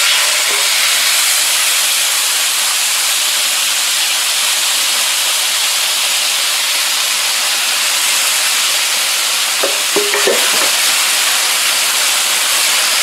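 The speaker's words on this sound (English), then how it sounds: "Let's get our steak cubes on." Steak cubes sizzle on a Blackstone E-Series 22-inch electric tabletop griddle, a loud continuous hiss close up, with a few brief clinks near the end and no talking.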